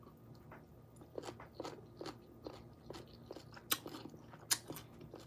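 Crisp, crunchy bites and chewing of a cucumber salad, close to the mic, with a steady run of wet crunches and two sharper snaps standing out near the end.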